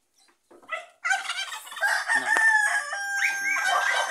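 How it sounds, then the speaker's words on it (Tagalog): A gamecock crows once, a loud, close, drawn-out cock-a-doodle-doo after a few short soft clucks, with no talk over it. "Electric ang manok na yan"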